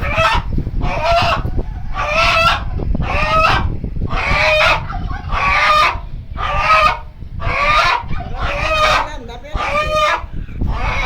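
A rooster and a turkey on a farm call out repeatedly and loudly up close, about ten harsh, honking bursts in a steady rhythm over a low background rumble.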